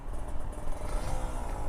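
A cold two-stroke motorcycle engine idles nearby with a rough, rattling, uneven putter, steady and continuous throughout.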